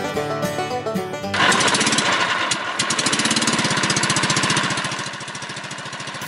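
A motor boat engine on a 30-minute boat ride in Rizal, Philippines, starts up and runs loudly with a steady, rattling drone, then eases slightly lower toward the end.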